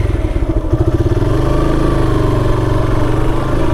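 A motorcycle engine runs steadily while being ridden, giving a loud, close mid-pitched throb with a light rattle. After about a second the note settles into an even drone that holds to the end.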